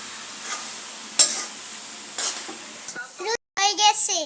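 Noodles being stirred and mixed in a hot pan at home, a soft sizzle with scraping spatula strokes, followed by someone talking close by near the end.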